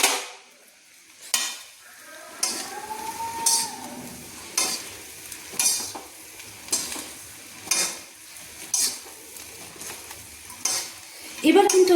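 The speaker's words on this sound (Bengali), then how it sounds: "2 চামচ টমেটো সস দিয়ে আবারও আমি মিক্সড করে নিচ্ছি।" Veg chowmein with tomato sauce is tossed and stir-fried in a pan, a rhythmic series of about a dozen scraping strokes roughly once a second over a soft sizzle, close and clear, with no talking.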